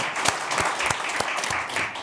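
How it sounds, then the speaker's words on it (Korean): Audience at a National Assembly forum on the May 18 spirit and the constitution claps for a lawmaker, a brief burst of brisk applause with distinct sharp claps standing out from the crowd. "이영석 의원님 박수 한번 쳐주시면 너무 감사하겠고요"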